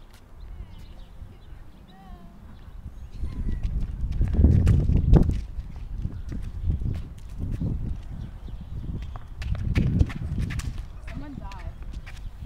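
Horses' hooves clip-clop in an arena during a knights' joust at a medieval dinner show, steady thudding steps that swell and fade under a speaking voice and crowd noise.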